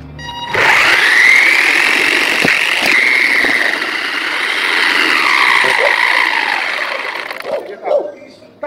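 A Himoto RC car accelerating hard gives off a loud, steady high-pitched motor whine that holds for several seconds, wavers slightly, then fades out near the end.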